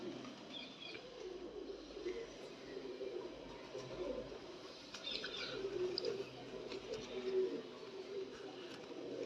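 Dab wale pigeons, two pairs kept in a coop, give soft, low cooing calls that repeat through a faint, busy background with occasional higher chirps.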